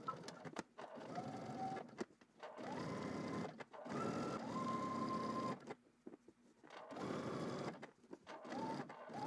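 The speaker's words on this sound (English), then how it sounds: "we're basically just going to stitch on the right side of the seam, but close to the seam, which is called understitching" A home sewing machine understitching a polo shirt seam runs in several steady whirring bursts of a few seconds each, close up, with short pauses between runs and no talking.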